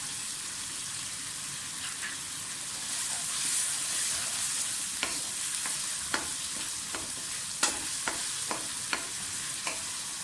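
Potatoes fry in a pan with a steady, close hiss of sizzling oil, broken by sharp clinks and scrapes of a spoon stirring several times toward the end.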